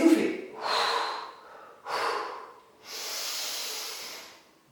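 Breath pushed out during a Pilates exercise, heard as several long, breathy exhales and sharp intakes close to the microphone, with no talk over them.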